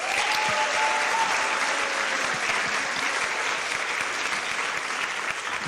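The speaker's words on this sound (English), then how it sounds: "Can we have one more round of applause for them, please?" An audience at a college senior student-athlete award ceremony gives award winners another round of applause, a dense, even wash of many hands clapping that holds steady throughout.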